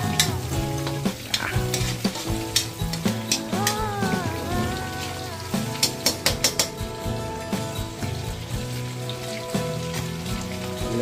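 Galunggong fish fries in a pan with a constant sizzle and sharp popping crackles, heard under tuneful background music.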